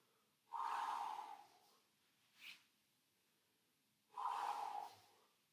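Two long, forceful exhales blown out during abdominal crunches in a workout session, each lasting about a second, with a brief quieter breath between them, close to the microphone and with no talking.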